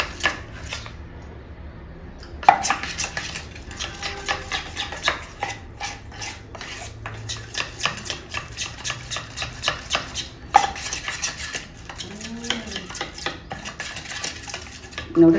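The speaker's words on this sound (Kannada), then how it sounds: "1 ಸ್ಪೂನ್ ಮೈದಾ ಹಿಟ್ಟು ತುಪ್ಪ ಹಾಕಿ ಪೇಸ್ಟ್ ಥರ ಮಾಡಬೇಕಿದು. ಚೆನ್ನಾಗಿ ಮಿಕ್ಸ್ ಮಾಡಬೇಕು." Maida flour and ghee mixed into a paste with a spoon in a bowl, giving a close, rhythmic series of scraping clinks and stirring strokes with occasional sharper taps, alone without talk.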